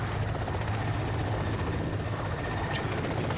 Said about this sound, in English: That friggin' helicopter.